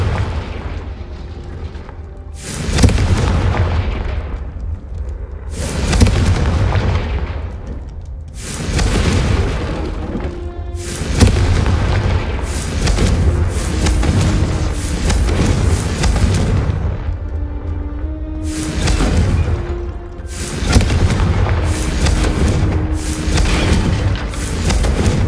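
Confringo fire spell explosions from the Hogwarts Legacy video game: loud, repeated booming blasts with rumbling bursts of fire that come roughly every few seconds and fill the whole stretch.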